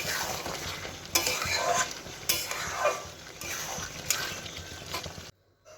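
Mutton is stir-fried for kosha in a pan, and a spatula gives repeated sweeping scrapes every second or so over a wet sizzle. The sound stops abruptly at the end.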